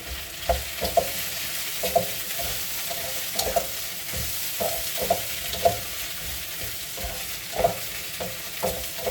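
Sun-dried tomatoes stirred in a hot pan for a creamy gnocchi, with a steady sizzle of frying under regular scraping strokes of a spoon, close and moderately loud with no talking.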